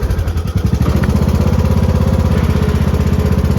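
An S100 riding lawn mower engine runs loud and close, with a steady, rapid chugging beat that holds even throughout.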